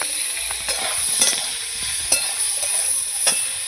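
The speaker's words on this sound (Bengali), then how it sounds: "এই যে লাল লাল করে ভেজে নেব।" Young, tender jackfruit frying in a pan to a reddish colour, giving a steady close sizzle with soft stirring scrapes and occasional sharper crackles throughout.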